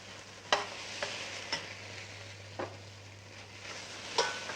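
Browned vegetables with oxtails frying in a pan before deglazing with red wine, a steady soft sizzle with a low hum underneath and a few sharp stirring scrapes at intervals.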